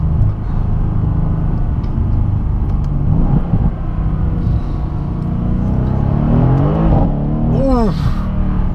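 A 2017 Mercedes C63 AMG S engine rumbles steadily up close, with rising revs and a throaty swell near the end, and a voice talks over it.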